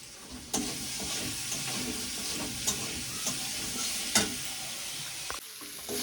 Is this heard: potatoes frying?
yes